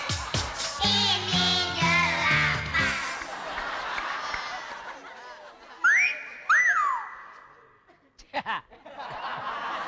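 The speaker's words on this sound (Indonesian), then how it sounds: "suitan kencang banget" An audience at a comedy show gives two loud, sharp rising-and-falling whistles, following a burst of laughter and chuckling.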